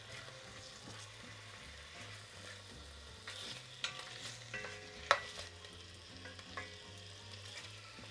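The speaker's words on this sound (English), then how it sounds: "we heat up some oil and fry the meat for a couple of minutes until it's not that pink anymore" Meat frying in hot oil in a Dutch oven, a quiet steady sizzle with occasional stirring scrapes and a few louder knocks, heard without speech.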